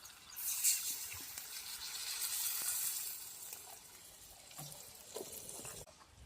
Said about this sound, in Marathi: पाणी वतून घेते आता.